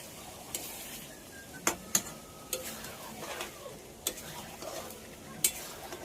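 Meat cooks in masala in a pan, with a soft sizzle underneath and sharp spoon scrapes and clinks against the pan at irregular intervals, close and fairly quiet.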